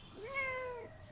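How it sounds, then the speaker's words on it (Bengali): A domestic cat gives a single clear, drawn-out meow, close and fairly quiet, lasting under a second against a soft background hiss. "বিড়ালের নাম কি? ময়না।"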